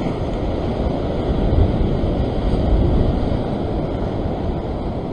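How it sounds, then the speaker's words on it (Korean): Large swells rolling in and breaking against rocks along a sea-fishing shore, a loud, continuous rumbling wash with wind across the microphone and no talking. "지금도 이제 큰 파도잖아."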